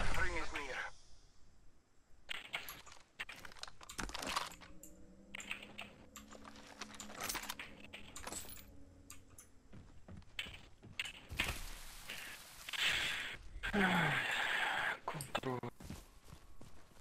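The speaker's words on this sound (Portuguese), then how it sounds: "O cara tá quebrando o teclado aí." A computer keyboard is hammered hard and fast during a video game, with dense, irregular clacking that runs throughout under game effects and voices.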